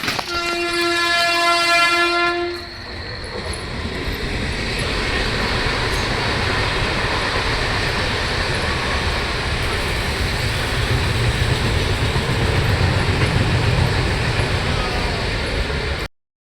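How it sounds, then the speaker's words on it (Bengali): A train horn sounds loudly for a couple of seconds, then a train rushes past close by with sustained heavy rumbling and rattling of wheels on rails, continuing strongly until it abruptly cuts off. "একটা ট্রেন আসছে, দেখিনি ট্রেনটা"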